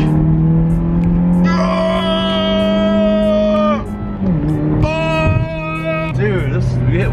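Honda Beat car accelerating hard on a test drive, its engine note climbing through the revs in loud, strained pulls with gear changes between, close from inside the cabin.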